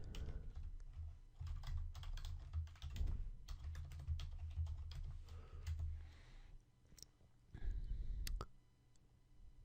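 Fingers tap quickly on a computer keyboard while jQuery code is written, bursts of close, crisp key clicks with brief pauses between runs and a soft low hum beneath.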